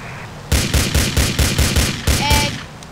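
Rapid gunfire from the Hulk mod in GTA IV, a quick series of about eight loud evenly spaced shots after a brief quiet start, with a faint tonal whine near the end.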